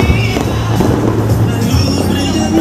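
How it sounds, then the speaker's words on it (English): Fireworks at a light festival in Parque La Sabana crackle and rumble at a distance beneath steady crowd and street noise, a continuous busy wash with no single sharp bang standing out. "So they doing the firework"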